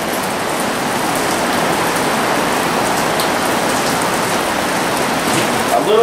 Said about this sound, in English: Freaking raining like a son of a bitch outside.